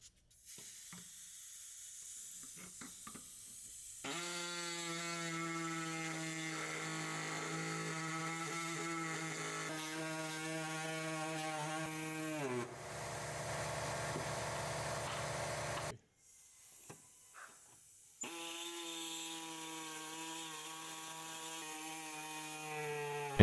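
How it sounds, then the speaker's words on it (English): Body saw cutting through the metal OEM driveshaft carrier on a Mercedes GLA 250, a loud buzzing whine that rises and drops as the blade bites, pausing briefly before resuming. "If you have a body saw like ours, make two cuts here and here."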